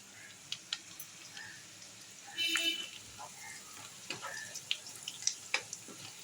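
Onion frying in a pan, a soft steady sizzle with scattered clicks and light stirring, growing briefly louder midway, heard alone without talk.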